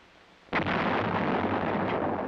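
A self-propelled 105mm field artillery howitzer fires one sudden, loud blast, followed by a sustained rumbling roar that lasts nearly two seconds.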